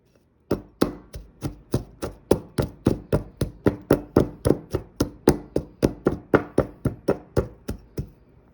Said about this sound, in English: You can even get it finer if you want to keep pounding with your mortar and pestle.